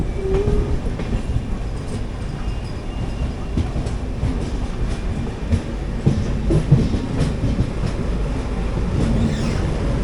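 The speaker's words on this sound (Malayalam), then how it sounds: "ഇവിടെ ഏതോ ഒരു റേക്കിന് ഷണ്ട് ചെയ്യുന്നുണ്ട്." A passenger train rake is shunted into a rail yard at Chennai Central, with continuous rumbling rolling stock and scattered clanks and faint wheel squeals. The sound stays steady and fairly loud, with no talk.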